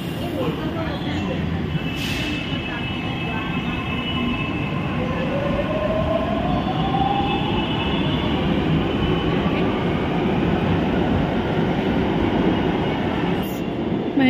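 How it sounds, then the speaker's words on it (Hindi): A Mumbai metro train rumbles steadily along the tracks with a constant low roar and a faint rising whine from the motors, heard from inside the carriage. "मैं भी पहली बार ही मेट्रो में बैठी हूँ"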